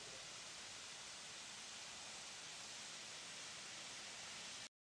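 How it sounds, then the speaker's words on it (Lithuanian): A small waterfall pours in a steady, close rush of falling water, an even hiss that holds unchanged throughout with no voices. "Krenta vandenukas."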